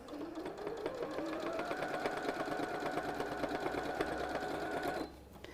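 Sewing machine stitching binding onto a quilt, running in a fast, steady rhythmic chatter for about five seconds before stopping abruptly.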